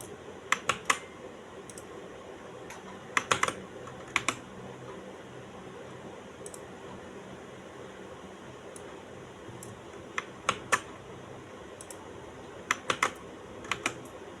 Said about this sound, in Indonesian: karena satu-satu kita harus ngetik menyalinnya